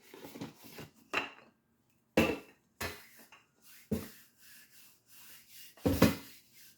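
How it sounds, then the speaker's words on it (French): Sablé dough being flattened with a floured rolling pin, a series of separate wooden knocks and rolling thuds against the work surface with brief quiet gaps between them, close and fairly loud, with no talking. "Donc là, on va aplatir notre pâte."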